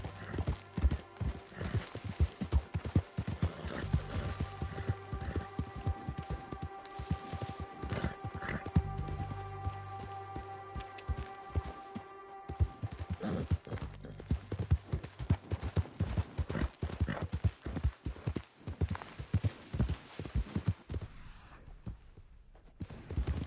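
A horse gallops in a Wild West GTA game, with rapid rhythmic hoofbeats at close range and a whinny early on, continuing steadily until easing near the end.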